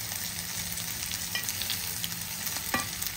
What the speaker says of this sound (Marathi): लसूण उडायला लागला बघा.